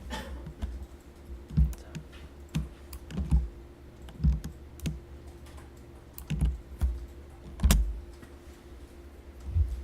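Keys pressed on a computer keyboard while working in Photoshop, a series of close, soft thumping clicks at irregular intervals over a faint steady background hum.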